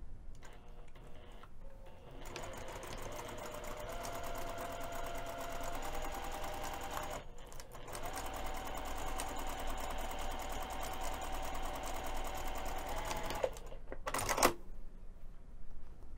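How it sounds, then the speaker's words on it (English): A sewing machine runs in a long steady stitching burst with rapid mechanical ticking, sewing a pinned fabric edge with a 1/4 inch seam allowance, pausing briefly in the middle and stopping near the end. "we're going to take this over to the sewing machine and sew the pinned edge"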